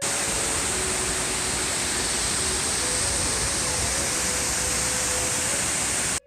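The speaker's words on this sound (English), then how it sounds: "As you can see the waterfall behind me over here." Arizona Falls, a waterfall on a Salt River Project canal, pours in a steady, full roar of rushing water heard close up, continuous and unbroken with no voices over it.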